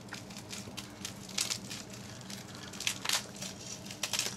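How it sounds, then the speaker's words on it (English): Plastic wrapping is peeled and crinkled off a Takara Tomy Beyblade Metal Fight Galaxy Pegasis package, giving soft, close crackling rustles with a few sharper bursts of crinkle, and no talking. "So I'll just take off the plastic off this."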